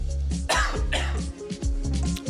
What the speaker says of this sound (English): sometimes I will have to cough a little bit